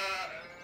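Sheep bleat in Landwirtschafts-Simulator 17, a farming game, with one close, loud, wavering bleat running continuously through the short clip.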